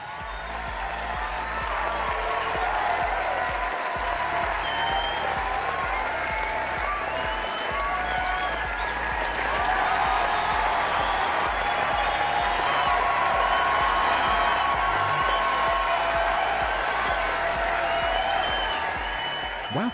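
Sustained applause from a large crowd at a beauty pageant final show, steady and loud throughout, with clapping blending into a continuous roar.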